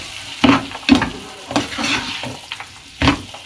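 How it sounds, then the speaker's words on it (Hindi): Boiled chana dal, cooked with salt and turmeric, being stirred and fried in a pan alongside bitter gourd, with several sharp scraping stirs over a soft sizzle, close and alone. "अब इसको थोड़ा भूनेंगे हम"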